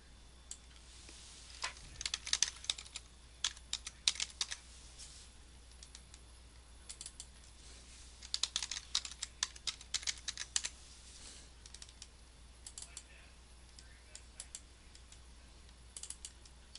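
Fingers type on a computer keyboard in quick bursts of close, crisp key clicks, separated by short quiet pauses, with no talking.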